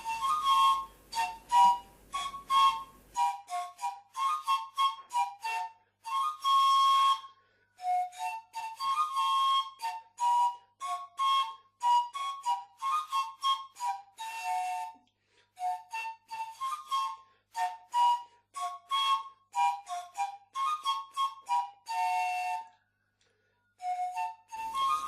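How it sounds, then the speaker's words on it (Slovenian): A 21-pipe pan flute (trstenke) plays a lively solo melody of short, clear whistling notes with brief pauses between phrases, close and fairly loud throughout. "Na trstenke je možno igrati samo melodijo."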